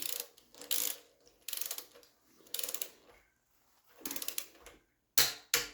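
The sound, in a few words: ratchet torque wrench tightening Triumph TR6 cylinder head bolts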